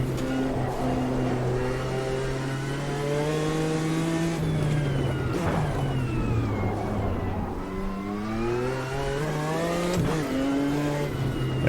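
Cadillac DPi race car engine in the Automobilista 2 sim at Long Beach, a loud continuous high-revving wail rising through gears with repeated upshifts and downshifts, no talking.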